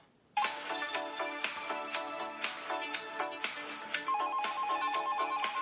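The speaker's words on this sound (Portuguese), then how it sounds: "Telefone tocando." A telephone ringtone starts abruptly and plays a loud, repeating electronic melody that continues to the end without any speech.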